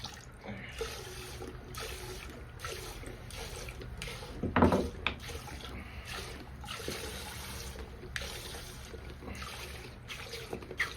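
Hydrogen peroxide poured into a container outdoors during a trap check, giving a soft liquid splash and trickle with one brief louder gush midway over steady background noise.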